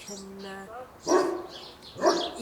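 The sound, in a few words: dogs barking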